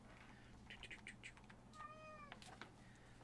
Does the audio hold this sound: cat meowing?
yes